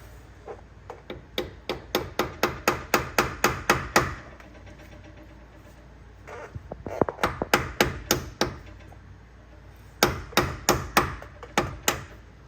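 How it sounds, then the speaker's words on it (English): A hammer striking a socket to drive a clutch pilot bushing into a Honda Civic Mugen Si during a twin disc competition clutch install: bursts of sharp, evenly spaced metallic taps, loud and close, with short pauses between runs. "I'm gonna use an 11/16 socket to tap the pilot pushing back in"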